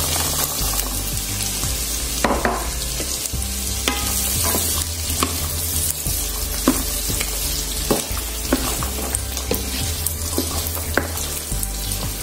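Carrots and garlic fry in a pan for fried rice with fresh shrimp, a constant loud sizzle with repeated scraping stirs and light clinks, close up with no talking.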